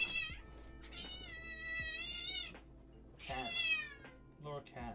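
A cat meows loudly and insistently, with several drawn-out, wavering cries in two bursts close to the microphone, and quieter indoor room sound in between.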